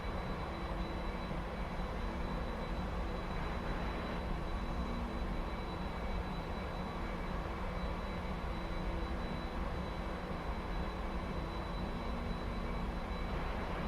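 Boeing 747-400 freighter engines roaring in the Prepar3D flight simulator as it takes off, a loud continuous broadband rumble and whine with no talking.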